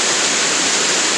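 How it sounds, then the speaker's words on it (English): A double waterfall at East Waterfall roars steadily, one fall pouring beneath the water surface and another spray sheeting over the top, a loud, continuous broadband rush with no break. "There's it's like a double waterfall. There's a waterfall underneath the water, and then there's another spray of water going over."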